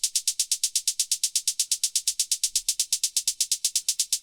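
Steady closed hi-hat in a melodic techno groove, tight bright ticks at sixteenth-note rate with a slight swing, high-pass filtered and playing alone with no kick or bass underneath.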